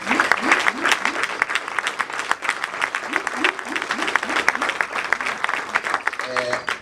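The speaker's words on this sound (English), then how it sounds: "A big round of applause to the CEO and the founder of Lekwa Consulting Engineers." An audience at a foundation gala dinner applauds warmly, a dense patter of many hands clapping steadily, with a voice speaking over the applause partway through.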